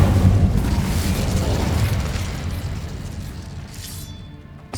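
An Incendio fire spell from Hogwarts Legacy lands as a loud, rumbling fiery blast that roars and then slowly dies away over several seconds, heard alone.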